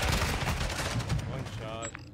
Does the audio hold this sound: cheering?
no